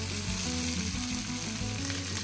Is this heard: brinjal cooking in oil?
yes